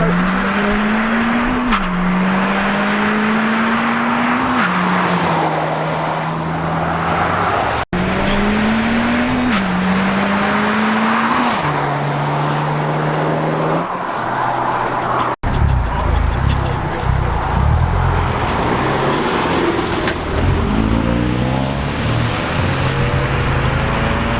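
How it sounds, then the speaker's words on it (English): A car doing a burnout at a meet-and-cruise on Vancouver Island: its engine howls loudly in repeated rising rev cycles, then gives way to a rougher, sustained high-revving roar with tire noise. "It's a new kind of burnout."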